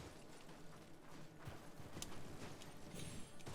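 Faint, quick clip-clop of a horse's hooves at a steady gallop in a video game, very quiet under a dense wash of background game noise.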